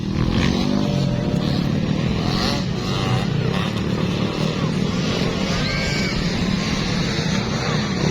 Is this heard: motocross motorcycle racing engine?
yes